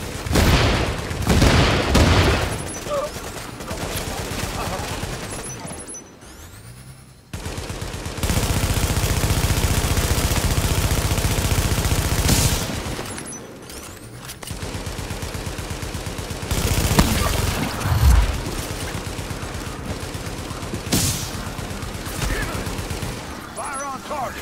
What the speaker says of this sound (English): Fortification is taking fire.